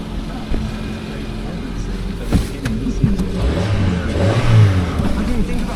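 A Land Rover bought at auction turns over and its engine catches on a cold day, settling into a close, rough idle with a rising rev, while someone talks over it.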